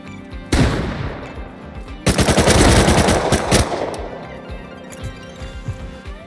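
Video game gunfire in Rust Console Edition: a short burst of shots, then a long rapid automatic volley lasting over a second, loud and close, followed by fainter scattered shots.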